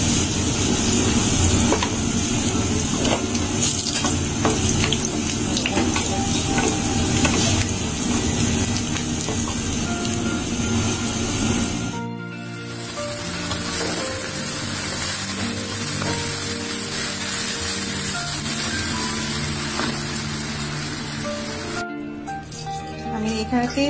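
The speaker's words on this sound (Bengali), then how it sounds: "এখন রসুনটা দিয়ে আমি বাগারটি নেব" Garlic sizzles and spatters in hot oil for a tempering over a bird-meat dish, a steady loud hiss with brief stirring and breaks, while a person talks throughout.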